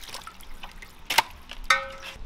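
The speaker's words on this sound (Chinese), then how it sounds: "先把那个羊肉给它洗一下" Small splashes and drips of water come in a few brief, close bursts as lamb rib meat is rinsed in a kitchen, quiet between the bursts.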